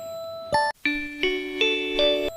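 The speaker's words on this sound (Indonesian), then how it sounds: "Bel istirahat yang berbunyi menandakan waktunya pergi ke kantin." A school break bell chimes a short ding-dong melody of several sustained bell-like tones, loud and clear, with no talk over it.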